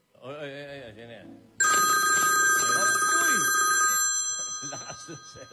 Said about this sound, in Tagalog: Lakas ng cellphone.